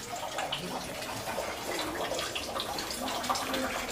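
Water pouring steadily from the Banyu Panguripan spring spout inside Jegles cave, a continuous splashing trickle heard close up with no talking.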